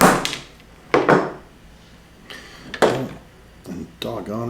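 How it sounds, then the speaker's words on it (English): Blaster kit parts for a Mandalorian Bergmann replica tapped together with the wooden back of a hammer handle, giving a few sharp knocks spaced through the clip, close by, with a voice speaking between them. "I'll use the back wood part of the handle, just tap it"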